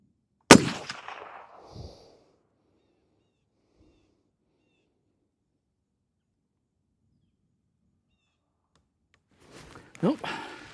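A POF Revolution rifle fires 178 grain ammunition: one sharp, loud shot near the start with a short ringing tail, then long silence, and a person speaks briefly near the end.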